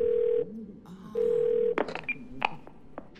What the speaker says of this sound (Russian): давайте позвоним по этому номеру